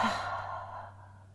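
One deep, breathy exhale during a yoga breathing exercise, close and alone, fading out over about a second.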